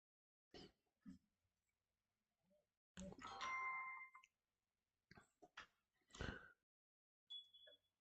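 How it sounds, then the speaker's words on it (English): A phone's notification chime rings out once, a bright ringing tone in the middle of scattered clicks and short knocks in a quiet room, with no talking. "Heard my phone chime."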